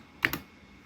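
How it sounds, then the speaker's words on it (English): Two quick, crisp keystrokes on a computer keyboard, close and fairly soft, typed while entering commands to configure a Cisco router; the rest is quiet. "so we can type here"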